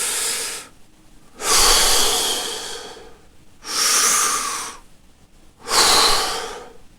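Slow, deliberate breaths, close and loud, in three or four long hissing inhale-exhale cycles with quiet pauses between them.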